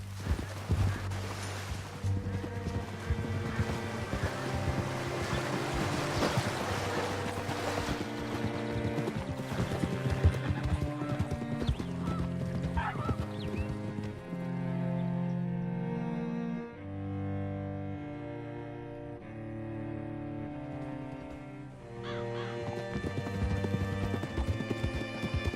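A horse gallops in Red Dead Redemption 2, its steady hoofbeats running under a loud musical score throughout.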